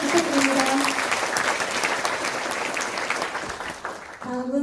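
An audience at a regional council policy forum applauds steadily, and speech briefly overlaps the clapping at the start and again at the end.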